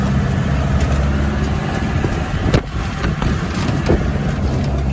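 Peugeot diesel engine of a jeep running steadily, a loud, close low rumble with a constant throb, brief rattles and swells midway, no talk.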